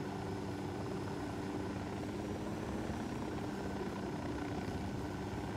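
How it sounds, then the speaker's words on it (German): A helicopter in the video game Ghost Recon Wildlands gives a steady, moderately quiet rotor and engine drone, continuous with no talk over it. "Vor uns müsste ein Hubschrauber sein."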